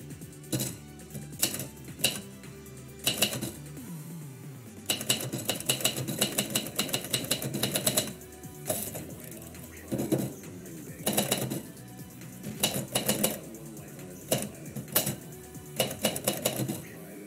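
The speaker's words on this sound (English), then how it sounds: "Typewriters made an interesting sound." Typewriter keys clack in rapid bursts with short pauses between, close and crisp, with occasional carriage-return clunks.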